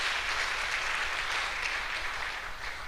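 An audience at a higher education summit claps steadily for about three seconds, a dense, even wash of applause at moderate distance with no voices over it.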